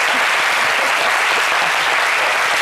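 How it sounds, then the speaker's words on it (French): A television studio audience breaks into sustained, dense applause, a loud even wash of clapping filling the whole stretch with no voices standing out. "on va lui donner de l'énergie, quelques applaudissements"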